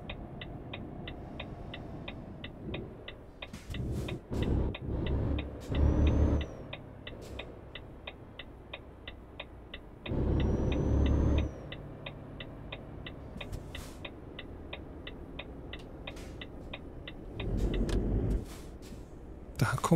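A truck rolls into a rest stop in Euro Truck Simulator 2 as a steady ticking indicator clicks throughout, with an engine humming underneath and several louder surges, hisses and thumps.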